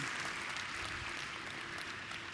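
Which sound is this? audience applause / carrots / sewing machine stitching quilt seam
audience applause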